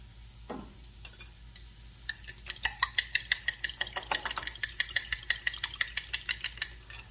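Sausage fries in a pan for a breakfast scramble, a soft sizzle that is joined by a quick run of sharp utensil scrapes and clacks against the pan as the meat is broken up and stirred.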